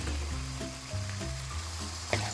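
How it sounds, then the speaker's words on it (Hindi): Onions sizzle and fry in hot oil in a wok while a Chicken Pota dish is cooked, giving a steady crackling hiss with small stirring clatters and no voices. "कढ़ाई में मैंने तेल डाल दिया था, अब ये गर्म हो गया है। बिस्मिल्लाह करें, बिस्मिल्लाहिर्रहमानिर्रहीम। ये मैंने प्याज डाल दिए हैं।"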